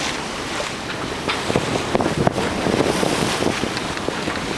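Sailboat bucking the waves at sea, with loud, steady wind buffeting and the rush and slap of water against the hull filling the whole stretch, no voices.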